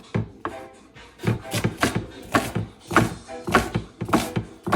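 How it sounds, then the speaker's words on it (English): Rapid knife strokes chopping onion on a board for Jamaican-style coconut dumplings, a quick irregular run of sharp close taps with short pauses between bursts. "Chopping our onion."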